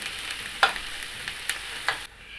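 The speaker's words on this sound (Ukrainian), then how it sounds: "одну цибулину смажу до золотистого кольору" Soft crackling sizzle of onion frying in a pan until golden, with a few sharper pops and stirring scrapes scattered over a steady quiet hiss.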